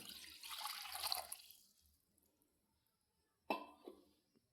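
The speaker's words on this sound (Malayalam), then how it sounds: "വെള്ളം മുക്കാൽ കപ്പ് ഒഴിക്കാം" A short, close stream of water pours and splashes into a pan for rava kesari, fading out, followed by quiet and a couple of sharp clinks or knocks.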